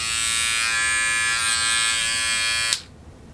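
A steady, high-pitched electric buzz from a GSI Mr. Hobby Mr. Polisher Pro smoothing 3D-printed layer lines runs close and continuous for nearly three seconds, then cuts off abruptly.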